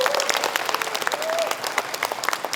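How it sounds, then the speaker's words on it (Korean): Forum audience applauding, a steady crowd of hands clapping throughout with distinct individual claps standing out near the front, and a brief voice trailing at the start. "여러분들 공감하시면은 박수 한번 쳐주세요."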